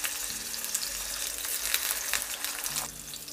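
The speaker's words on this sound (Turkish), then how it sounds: "Patlıcanın şöyle tuzunu sıyırdıktan sonra hemen yağın içine." Eggplant slices dropped into hot oil in a home kitchen, giving a steady, close hiss of frying that thins out near the end, with no voices over it.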